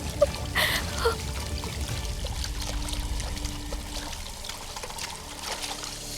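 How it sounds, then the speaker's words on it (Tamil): Water being poured from a can in place of petrol, a continuous splashing, trickling pour heard close and steady over several seconds with light background noise. "பெட்ரோலுக்கு பதில் தண்ணியை ஊத்திக்கிட்டு இருக்க."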